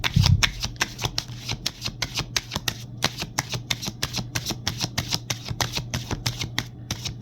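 Tarot cards being shuffled by hand, a fast, even run of crisp riffling flicks up close that continues for several seconds.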